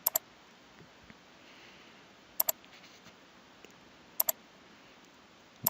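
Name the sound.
computer mouse clicking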